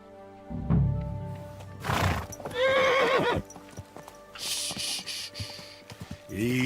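Horse in Kingdom Come Deliverance 2, a medieval game: hooves clop briefly, then a loud neigh rings out alone, followed by softer whinnying and shuffling steps with a few light knocks.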